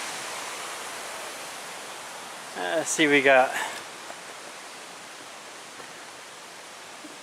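Big Carp River runs steadily beneath a footbridge, a broad, even rush of flowing water holding constant through the whole stretch, with someone speaking briefly over it midway.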